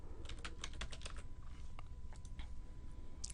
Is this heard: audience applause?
no